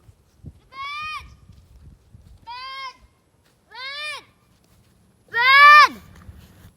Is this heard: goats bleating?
yes